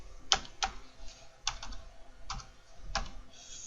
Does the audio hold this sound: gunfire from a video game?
no